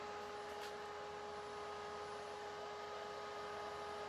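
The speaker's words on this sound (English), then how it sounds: "when I changed this to AC-50, this is what I get now with the motor" An AC-50 electric motor runs at a steady, even hum with broadband whir and no tonal whine, faint and constant throughout with no speech.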